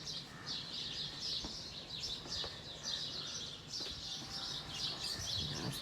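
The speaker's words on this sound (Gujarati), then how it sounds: "મસ્ત ચકલીઓ બોલે છે ને મજા આવે" Faint, continuous chirping of house sparrows carries from a distance, a steady twittering chorus over quiet background noise.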